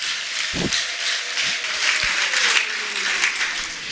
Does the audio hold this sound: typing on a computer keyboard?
no